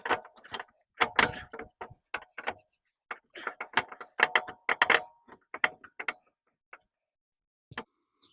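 A 40mm bolt being fitted through the fork and shock of an Acura Integra, a string of close, sharp metallic clicks and clacks in irregular bursts with short pauses, no talking.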